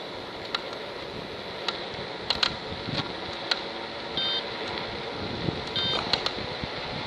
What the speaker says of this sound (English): when y'all hear that beep noise, y'all can let the throttle go